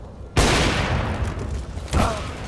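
Gunfire in Counter-Strike: Global Offensive during a LAN tournament match, a sharp loud shot followed by a second burst about a second and a half later, each with a ringing tail.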